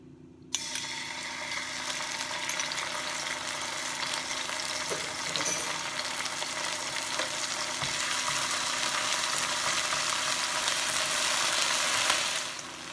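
Minced ginger sizzles steadily in a hot pan, a continuous, close hissing with faint stirring clicks and no voices.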